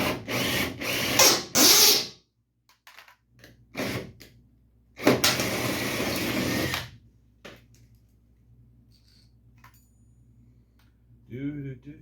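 A power drill bores into a stainless steel fender brace for a 1951 Chevy truck in short, loud bursts separated by quiet pauses, with faint mechanical clicks between them.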